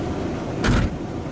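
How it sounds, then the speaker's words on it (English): A door of a 2004 Dodge Stratus shuts once with a brief muffled thump midway, heard close against a steady background hiss. "I'm going to close the doors"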